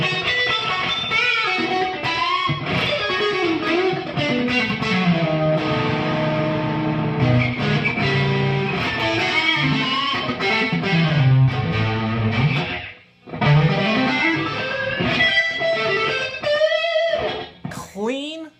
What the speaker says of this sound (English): let me just really crank distortion here with a boost behind it